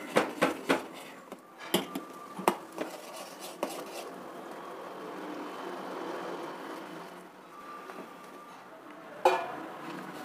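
A spoon scrapes and clinks against a pot while rice flour dough is mixed, first in several sharp knocks, then a softer, steady stirring rasp with a final clatter; close and fairly quiet.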